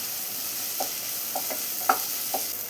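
Finely chopped tomatoes sautéing in a pan: a steady background sizzle broken by several light spatula taps and stirring scrapes spaced irregularly, close and fairly quiet, with no voices.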